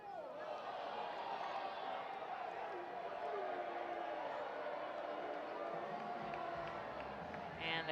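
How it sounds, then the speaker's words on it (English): Baseball stadium crowd during a minor league game between the Reading Fightin Phils and Richmond Flying Squirrels, a steady sustained roar of booing spread across the stands, filling the whole stretch at even loudness, with commentary voices talking over it. "And the crowd is booing"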